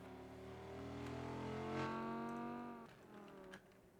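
Race cars in RENNSPORT at Spa-Francorchamps drone past in a small pack, a steady engine tone swelling and fading with a slight pitch shift as they pass, fairly faint under commentary.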